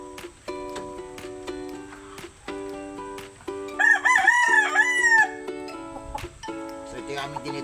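A rooster crows once, loud and close, over steady farm noise while someone talks in Filipino before and after the call.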